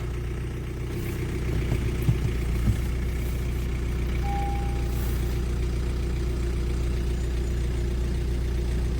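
A 2016 Honda Civic diesel with a diesel particulate filter fault (code P24A4) runs in a garage, a steady, close, low engine drone that holds fairly even throughout without a distinct rev.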